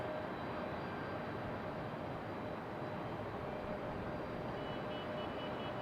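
A Piedmont Airlines plane at Raleigh-Durham airport sends a steady, broad jet roar that holds at an even level without breaks, heard from a distance with no voices.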